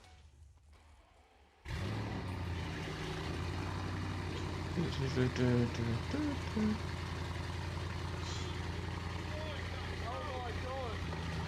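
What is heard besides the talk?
car engine on cold start with Scorpion exhaust and downpipes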